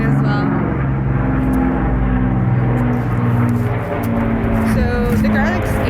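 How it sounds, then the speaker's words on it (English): A propeller or jet airplane drones steadily overhead on a garlic farm, a continuous loud rumble that fills the whole stretch while a person keeps talking over it. "And there's another plane as well."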